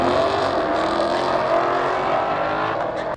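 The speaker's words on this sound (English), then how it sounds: "full-on competition style catless with no muffler systems" A car with a full competition-style catless exhaust and no muffler roars loudly and continuously, a raw, harsh engine note held close for several seconds before cutting off at the end.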